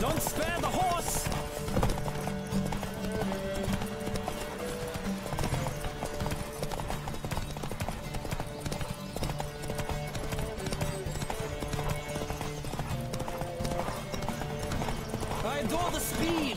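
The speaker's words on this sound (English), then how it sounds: "Don't spare the horse!" Rapid hoofbeats of a galloping horse in The Witcher 3: Wild Hunt pound steadily throughout, loud and close, mixed with game music and an occasional whinny.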